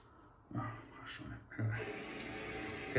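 Tap water runs steadily into a sink, a continuous hiss of flow that strengthens partway through, with faint background voices.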